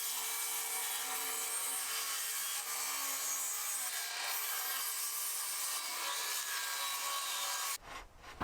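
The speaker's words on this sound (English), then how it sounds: "I could plunge the saw in and make the cut freehand as close to the line as possible" Circular saw plunged into shiplap shed cladding and pushed freehand along a line, a steady loud rasping whine of the blade through wood for about eight seconds before the cut ends abruptly.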